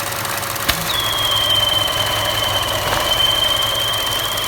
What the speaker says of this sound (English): See that little whistle sound? And the engine is starting to shake.